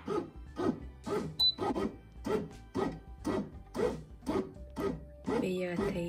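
A bread machine kneads dough with a regular, muffled thumping about twice a second, close by and steady for several seconds.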